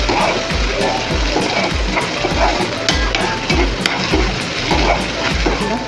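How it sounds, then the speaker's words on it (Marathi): Onion and bell pepper fry in a pan with a steady close crackling sizzle, broken by regular soft stirring scrapes with a low knock roughly every half second. "आता कांदा आणि ढोबळी मिरची आपली छान परतत आलेली आहे"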